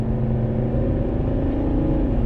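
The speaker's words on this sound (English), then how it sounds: "I love the sound of this car." A 2009 Volvo S80 D5 with a five-cylinder diesel engine drives along steadily, its low engine drone and road noise continuous and close throughout, with no talking.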